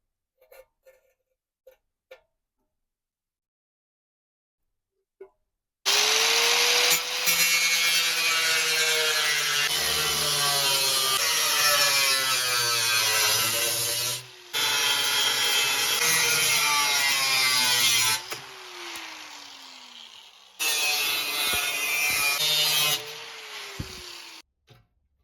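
A power saw cuts through a steel Harley Sportster fender from a 1990 restoration, a loud close whine starting after a few quiet taps, pausing briefly twice and resuming, with no talk.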